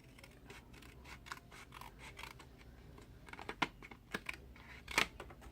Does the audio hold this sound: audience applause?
no